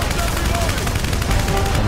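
Gunfire in the PS3 video game Terminator Salvation, a dense loud barrage of shots and rumbling blasts over a battle din, with people talking over it.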